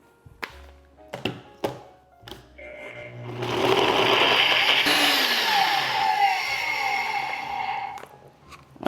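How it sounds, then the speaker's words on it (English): A blender runs steadily on a plant-based lemon mousse with dates after a few knocks and taps of setup, a loud continuous whir lasting several seconds, close and without talk. "So you're just going to blend this really until you can't see any more of those date chunks"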